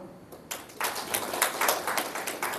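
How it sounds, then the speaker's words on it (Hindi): An audience at a spiritual talk in Nagrota, Himachal Pradesh, breaks into clapping after half a second, a dense run of claps carrying on steadily. "थोड़ा बीच में ताली बजाओ"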